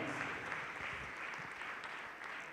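An audience at a Christian worship show claps steadily and loudly throughout, a dense crowd applause with no voices on top.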